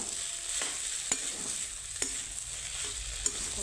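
Papaya curry with ghee and garam masala is stirred in a pan over a soft steady sizzle, with a few faint spoon clicks against the vessel and no talking.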